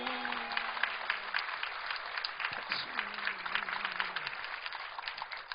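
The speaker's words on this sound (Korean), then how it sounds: "박수." Sustained applause from a church congregation during a Christmas sermon, dense and steady clapping for several seconds, with a low voice briefly audible underneath.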